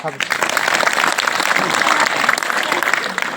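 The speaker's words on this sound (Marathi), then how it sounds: "तर एकदा तुम्ही सर्वांसाठी जोरदार टाळ्या वाजाव्या" Applause from an audience at a Marathi community women's organisation event, dense clapping spread evenly across the clip, loud and steady with some voices mixed in.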